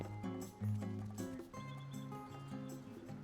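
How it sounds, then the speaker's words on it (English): Clip-clop of horse hooves sounds in the survival video game Rust as a horse arrives, a few soft hoof thuds mixed with game music tones and low ambience, faint overall. "Somebody just got here on a horse."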